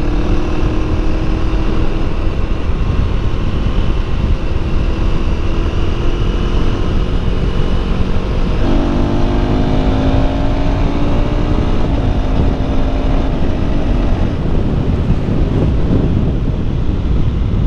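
A 2024 KTM Duke 390 motorcycle engine drones under heavy wind rush while riding, its pitch climbing through the revs and briefly dipping as the quick-shifter snaps through a gear change without interruption.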